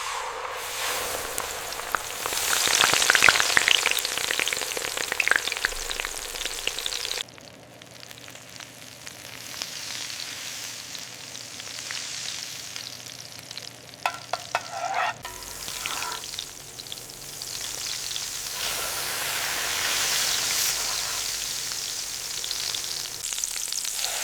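Rabbit meat sears in a hot pan, a steady broad sizzle that swells and eases across several sections, with occasional louder pops and crackles; no voices.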